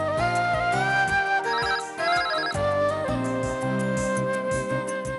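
A phone ringtone plays a loud, bright, repeating electronic melody that runs continuously with no talking, set indoors in a home during a Telugu TV drama.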